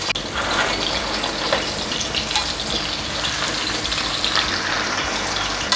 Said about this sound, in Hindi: बस इसको आप नॉर्मल सा इसको फ्लेम रखेंगे तो उस पर आप इसको फ्राई करें